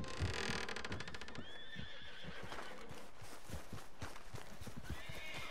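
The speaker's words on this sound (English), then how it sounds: "This horse needs to calm down." A horse in Red Dead Redemption 2 whinnies loudly up close, its shrill neigh wavering over steady hoofbeats clip-clopping along with game ambience.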